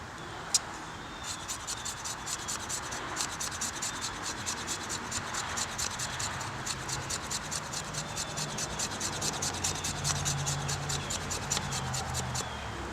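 A knife's 90-degree spine scraping fatwood into fine dust, a steady close rasping scrape with rapid repeated strokes running continuously for several seconds, no talking.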